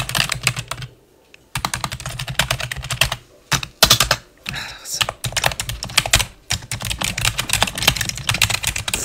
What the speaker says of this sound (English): I do a little of extensive typing.